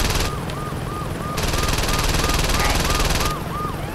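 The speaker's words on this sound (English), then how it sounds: "Oh, another chopper has arrived." A helicopter arriving in the video game Saints Row 2, with loud, continuous rotor chopping and a whirring engine that swells in the middle, while a person speaks briefly over it.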